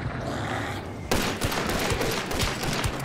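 Gunfire in the game Hunt: Showdown: a sudden loud volley of shots with rapid cracks and echoing tails, following a quieter stretch of ambience.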